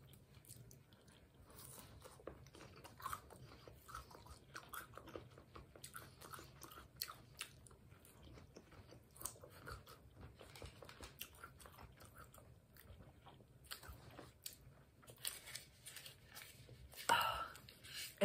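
Crunchy lotus root from a spicy seafood self-heating hot pot being bitten and chewed close to the mic, faint repeated crunches and moist mastication at a low level, with a few soft sounds near the end.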